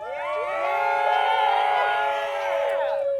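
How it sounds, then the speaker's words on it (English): Wedding guests cheer for the couple in a loud, sustained burst of whoops and high shouts that rises and holds for about three seconds. "Cheer for them one more time."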